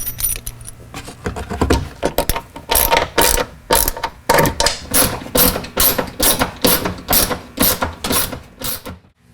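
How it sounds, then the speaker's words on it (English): A ratchet drives 1/4-inch bolts with big fender washers into a base plate under an overlanding drawer system, giving a loud, fast run of repeated clicking bursts in regular spurts, close up, with no talk. "We're bolting it down to a base plate that we built a few episodes ago using 1/4-inch"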